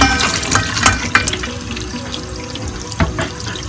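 Water runs steadily from a tap with splashing and a few sharp knocks as chicken feet are rinsed under the stream, close by.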